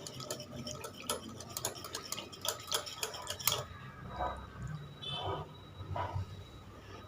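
Hand whisk clinking rapidly against a bowl while mixing buttermilk for an eggless chocolate sponge cake; quick, close metallic ticking strokes that thin out into slower, softer stirring halfway through.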